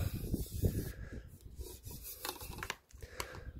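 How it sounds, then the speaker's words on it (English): An aluminium extension pole section slid out after lifting a locking lever, producing scraping, rubbing metal friction in uneven strokes with small clicks toward the end, close and fairly quiet. "You just lift one of these levers and then slide the aluminium out"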